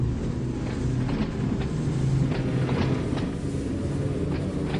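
A commuter train pulling away in Train Sim World 2 on the Ryde Pier Head to Shanklin line, a steady loud low rumble with faint rhythmic clicks of wheels over rail joints, no voices.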